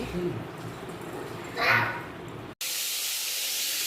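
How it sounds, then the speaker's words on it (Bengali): A fish head fries in a pan at home: quiet talking and a brief hiss at first, then an abrupt switch to a steady, bright, close sizzle that continues to the end. "মাছের মাথায় দেখো ভাজছি"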